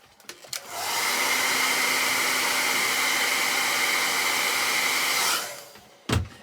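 A hair dryer runs steadily for about five seconds while drying freshly applied face paint, its broadband whoosh switching on, holding even and loud, then cutting off, with a few small handling knocks before and after.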